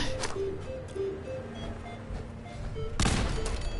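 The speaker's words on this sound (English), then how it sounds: "It's basically launching grenades" Grenade launcher fire in Fallout 4, heard as a string of dull thunking shots and muffled booms, with a louder, sharper blast near the end, over a steady bed of game ambience.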